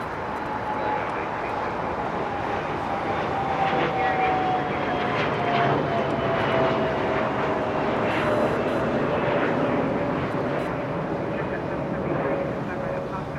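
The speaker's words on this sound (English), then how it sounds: "Lufthansa 747 arrived an hour 30 minutes late" Lufthansa Boeing 747 jet at Los Angeles International Airport, a loud, steady engine roar with a slowly falling whine, heard near and continuous, with a voice talking faintly in the background.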